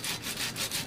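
Sandpaper scraping surface rust off the metal frame of a DDR arcade cabinet, several quick back-and-forth strokes in a steady rhythm, close and alone.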